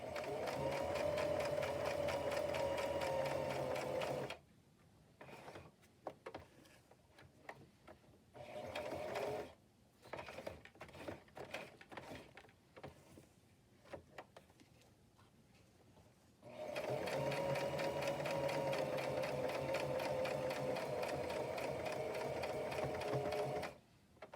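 A sewing machine stitches patchwork fabric tags in long, steady bursts of rapid whirring, broken by quieter pauses filled with small clicks and handling noises, then running again close by.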